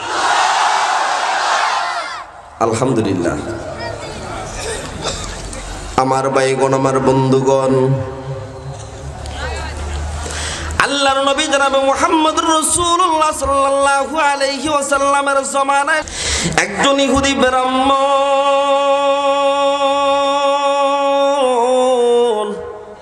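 A large outdoor religious gathering in Bangladesh answers a preacher's call with loud, repeated takbir chants. Many voices shout in unison in several sustained waves, with amplified speech heard between them.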